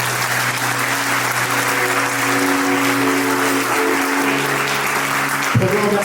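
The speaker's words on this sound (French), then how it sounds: "Applaudissez très fort, s'il vous plaît" A large crowd claps loudly and steadily throughout, with a sustained tone running underneath the dense applause.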